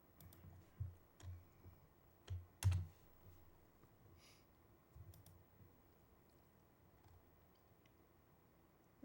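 Keys on a computer keyboard tapped in a few separate bursts of sharp clicks, close and fairly quiet, followed by a low, steady background hum.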